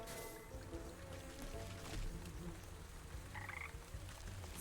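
Frogs croak in a swamp in the Wytchwood video game, a low rhythmic croaking bed under steady ambient game noise, with a brief tonal chime partway through.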